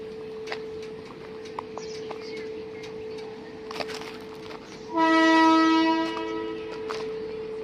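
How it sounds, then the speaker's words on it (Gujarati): A passenger train's horn blares loudly for a couple of seconds over a steady engine hum as it departs a station platform for Bhavnagar, after a stretch of faint clicks and rumble. "ટ્રેન રોકાઈ ગઈ છે હમણાં ભાવનગર ઉપડશે"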